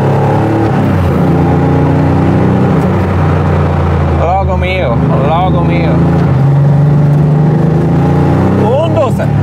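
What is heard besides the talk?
Porsche 964 RSR restomod engine revving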